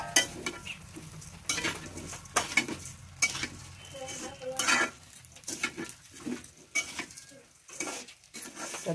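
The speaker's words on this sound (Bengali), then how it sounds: "এটা দিয়ে নবাবী সেমাই রান্না করবো আমি, সেজন্য ভালো করে এটা ভেজে নিচ্ছি" Vermicelli (semai) frying in ghee in a pan for nawabi semai, with frequent stirring scrapes and utensil clinks over a soft, steady sizzle, close and moderately loud.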